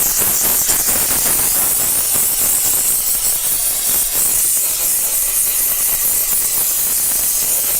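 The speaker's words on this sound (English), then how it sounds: "if you really need to, you can use your steamer" A steamer blasts the muddy inner fender wells of a car during winter detailing, giving a loud continuous broadband hiss that stays steady throughout, close and alone.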